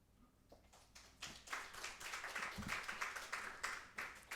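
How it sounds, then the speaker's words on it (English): Audience applause for Jenna at a report launch event, starting as a few scattered claps and swelling into steady, fairly quiet clapping from a room of people. "Round of applause for Jenna."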